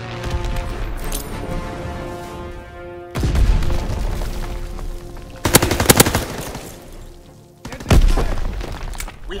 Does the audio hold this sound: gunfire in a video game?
yes